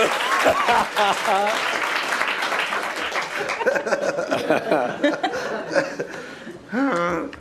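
TV game show studio audience applause rises under overlapping voices and chuckles, a continuous clatter of clapping with a burst of laughter near the end.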